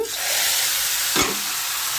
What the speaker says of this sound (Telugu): పప్పులో వేసేద్దామండి పోపుని